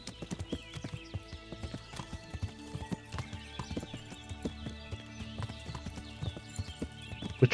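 A horse in Kingdom Come: Deliverance clip-clops in a steady trotting rhythm, fairly close, with faint creaks and a soft snort or whinny near the end.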